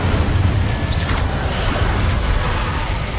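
An Incendio fire spell in Hogwarts Legacy roars as a loud, sustained whoosh of rumbling flame with a few faint higher flickers, lasting a few seconds without speech.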